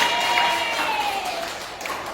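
Schoolchildren in an Indonesian classroom clap together in a short, lively burst, with a few young voices calling out over the applause.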